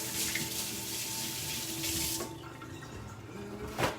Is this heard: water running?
yes